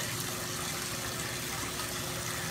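Tap water pours steadily into a mixing bowl to soak off batter residue, a continuous loud rushing and splashing gush close by with no talk.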